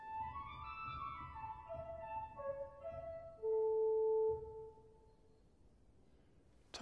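Harmonic flute stop alone on a Viscount Envoy 35-F digital church organ: a soft, pure single-line melody of held notes descending, one louder sustained tone, then quiet decay and a click at the end.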